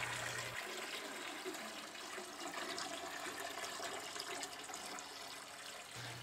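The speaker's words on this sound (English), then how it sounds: "now I'm going to get started with the skimmer chamber, and as I'm filling it up here, it looks pretty good." Water pours steadily into the glass skimmer chamber of a nano reef sump, a continuous close hiss and trickle with no break.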